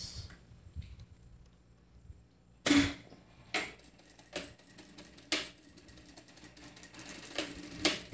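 Short bursts of a sewing machine stitching a seam on a fabric eco bag, several quick mechanical rattles spaced apart with quiet pauses between, fairly close and moderately loud.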